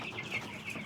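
Ten-day-old Ross 308 broiler chicks chirp and peep faintly in a poultry house, high thin calls rising and falling over a low background hum.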